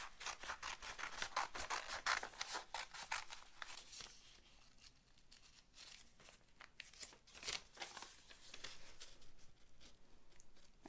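Scissors cut freehand through paper for a papier-mâché Jack Skellington bust, a faint series of quick crisp snips and rustles in irregular bursts.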